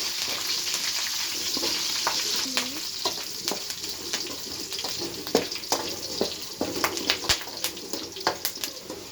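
Vegetables and curry leaves fry in hot oil for upma, giving a close, steady sizzle dotted with frequent sharp crackles and pops that grow busier toward the end.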